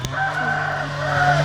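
Chickens in a chicken coop give a steady, drawn-out fowl call that holds for about a second and a half, close and moderately loud with no talking.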